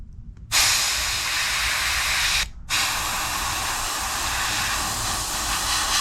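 An airbrush sprays paint markings onto a Monogram P-39 model kit, making a loud continuous hiss that starts, cuts off briefly, then resumes steadily, close up and without speech.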